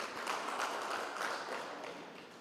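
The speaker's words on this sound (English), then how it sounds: "Please clap hands." An audience at an ICT stakeholders' engagement in Omaheke Region claps together, a dense steady patter of many hands heard from a short distance that holds for a couple of seconds, then slowly thins and fades.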